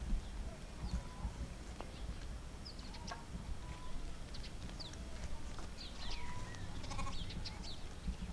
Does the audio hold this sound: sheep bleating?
yes